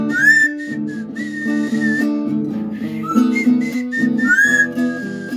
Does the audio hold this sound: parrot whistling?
yes